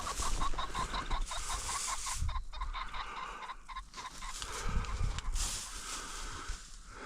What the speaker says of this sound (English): not much beats the wild, flushing, cackling rooster in the golden hour